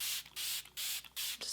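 Smashbox Primer Water setting spray misted over a face: four short, bright pump sprays in quick succession, close and clear, with brief pauses between bursts.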